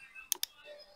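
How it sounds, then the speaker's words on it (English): A computer mouse clicks twice in quick succession while working in CAD drawing software, two crisp, close taps against a quiet background. "let me click on edge"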